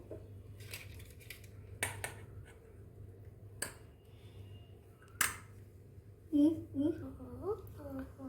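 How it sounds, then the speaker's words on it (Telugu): A knife scrapes butter across bread slices for a vegetable sandwich, with several short sharp scraping strokes and light clinks, while someone talks quietly throughout. "ఇప్పుడు మనం బటర్ అప్లై చేసుకుందాము"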